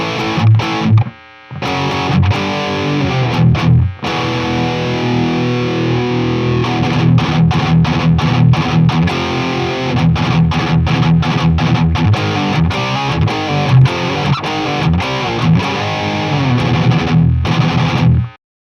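Electric guitar played through a Blackstar HT-5 valve amplifier with effects pedals, loud, thick distorted metal riffing with rapid palm-muted chugs and sustained chords, a couple of brief stops, no talk.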